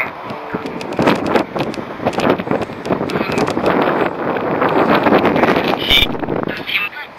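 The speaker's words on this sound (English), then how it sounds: "God, I wish the wind would calm down." Wind buffets a microphone outdoors at Archcliffe Fort in Dover, a loud, continuous low rumble and roar with gusting surges throughout.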